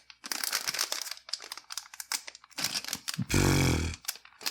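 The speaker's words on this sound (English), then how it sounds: "Oh, super crinkly bag." A super crinkly plastic bag from a Warhammer 40k miniatures kit is crumpled and handled up close, loud bursts of crackling with brief pauses, ending in one long dense crinkle.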